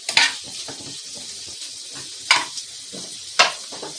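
Green chillies fry for a broccoli fry, a close, steady sizzle in the pan punctuated by three sharp stirring scrapes of the spoon against the pan, with no one speaking.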